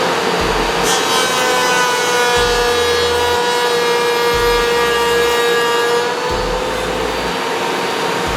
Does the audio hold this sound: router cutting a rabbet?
yes